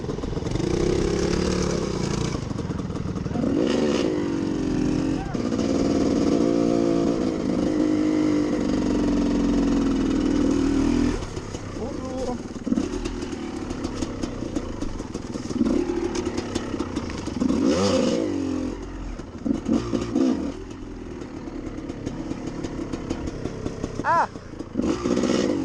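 Vintage 125 DR or XLR enduro motorcycle on an off-road outing, its engine clattering and revving loudly nearby, rising and falling in bursts with brief drops toward idle throughout.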